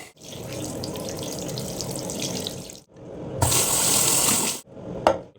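Water runs steadily from a kitchen tap as coriander and mint leaves are washed, with a brief pause, then a brighter, splashier stream and a final short burst.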